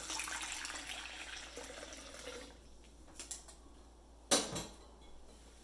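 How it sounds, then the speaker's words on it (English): Faint warm water running and splashing into a bowl for baguette dough, fading after a couple of seconds, followed by a few soft knocks and a clink. "Add my 2 cups of warm water."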